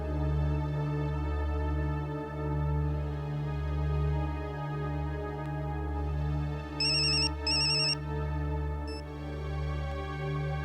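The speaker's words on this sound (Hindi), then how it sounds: "फिर से डायल कर दो।" A telephone rings after a number is redialed in a Hindi crime drama: two short ringtone bursts, then a brief chirp, sounding over a steady low musical background with no speech.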